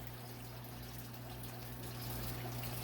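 An aquarium gravel siphon, partly clogged, draws up mulm and water with a soft, steady trickling rush over a low hum, faint and continuous with no talking.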